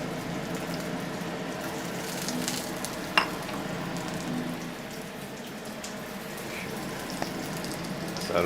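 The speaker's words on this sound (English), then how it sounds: "sizzles." Yakisoba fries in a Nordic Ware wok with a steady, close sizzle, a continuous crackling hiss broken by occasional louder clinks of stirring.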